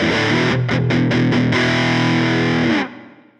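Electric guitar driven through a Wampler Compulsion Drive overdrive pedal, playing a loud, full-bodied distorted chord passage with a few rhythmic chops before sustained ringing chords that cut off and decay near the end.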